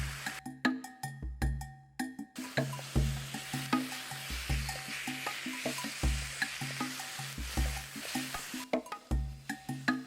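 Sambal for fish is stirred and fried in a pan at a forest hut, a steady sizzle with repeated scraping strokes in a loose rhythm, carried over a looping background beat.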